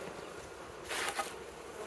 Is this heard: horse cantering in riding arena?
no